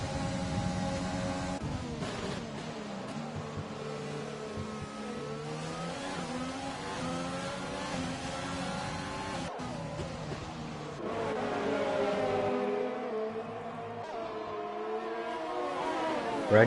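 Race car engines screaming around the Italy 2020 circuit in an F1 game league race, high revving tones rising and falling through gear changes as cars run down the main straight, heard under race commentary.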